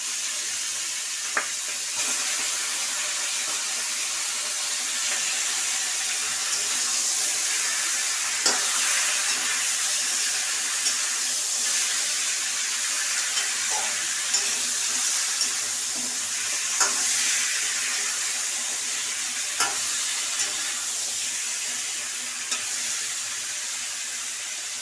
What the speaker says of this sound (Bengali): তেলটা গরম হয়ে গেছে, আমি এবার এই কাঁটাগুলো আগে ভেজে নেব।